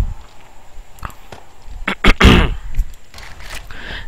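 A person clears their throat once, loud and close, during a 7 Days to Die gameplay session, a short rough burst preceded by a few quieter clicks and breaths.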